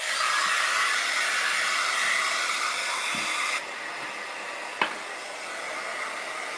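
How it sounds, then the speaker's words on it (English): Hair dryer blowing steadily on fresh stencil paint, a loud continuous airy roar that drops in level partway through, with a brief click near the end. "Let me hit it with the blow dryer so I don't ruin all of this."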